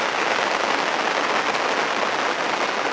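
Steady rain patters across the water and bank at a fishing lake, a dense continuous hiss with no let-up and no voices.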